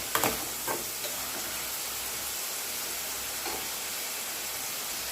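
Onions and green chillies frying in hot oil while being stirred, a steady bright sizzle with a few clinks of a spoon against the pan at the start.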